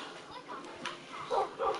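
A dog gives a couple of short, soft yips and whimpers close by, quiet and brief, with faint background noise.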